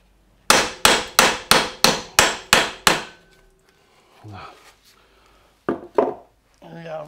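Eight sharp, evenly spaced hammer blows ring out on metal while fitting brake calipers on a Volvo 945, followed by quieter clunks, scraping, and a couple more knocks.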